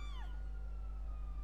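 Ambulance siren in the video game GTA Online, a brief falling wail at the start followed by a lingering steady tone over a loud low hum.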